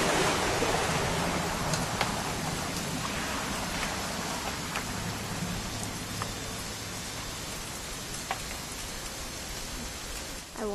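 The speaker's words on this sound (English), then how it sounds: "It's gonna rain the whole weekend, isn't it?" Steady rain from the video game What Remains of Edith Finch, a dense even patter with scattered droplet ticks and a low rumbling bed, continuous and fairly loud throughout with no voices.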